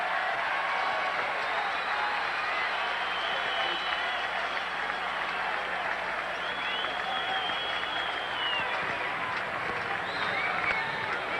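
Stadium fans at a San Francisco Giants game against the St. Louis Cardinals rise to their feet cheering, a continuous broad roar of voices and applause with scattered whistles and shouts, sustained and loud for the whole stretch.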